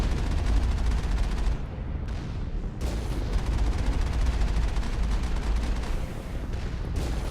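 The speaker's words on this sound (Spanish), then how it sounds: "qué cadencia de disparo tiene esta torreta" Rapid turret gunfire in the Mass Effect video game, a dense, loud, continuous barrage of booming shots with a couple of brief dips, no talking.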